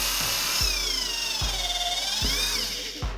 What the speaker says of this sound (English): So I got the drill right here, put it on top of the burn mark